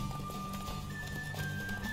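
Hoofbeats of a galloping horse in The Witcher 3: Wild Hunt, a steady clip-clop rhythm at moderate level under game music and ambience, with a possible faint whinny.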